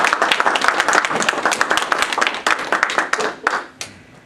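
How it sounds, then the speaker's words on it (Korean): Audience clapping at a commemorative event held in Washington, a dense burst of applause from a crowd that thins out toward the end, with a few last claps trailing off. "다시 한번 큰 박수 해주시길 바랍니다"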